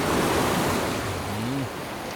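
Sea waves roll onto a shore, a steady loud wash of surf with wind noise throughout, and a brief voice-like tone briefly rises near the end.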